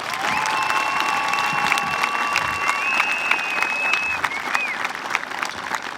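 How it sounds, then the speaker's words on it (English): Steady applause from the audience at a junior/senior high school commencement ceremony, a continuous wash of clapping with a few cheers, while high whistling tones sound on top. "let's give them a round of applause"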